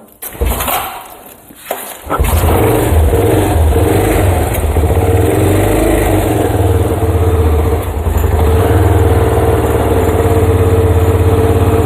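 A rare Yamaha Tri-Moto three-wheeler's small engine starts after a few quiet fumbling sounds, then settles into a loud, steady, slightly high idle that continues up close to the end.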